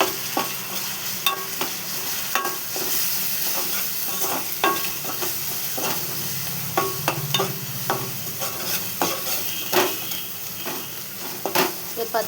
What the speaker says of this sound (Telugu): అల్లం స్పూన్నర అల్లం, కొంచెం పసుపు వేసుకొని పచ్చి వాసన పోయేదాకా వేయించుకోవాలి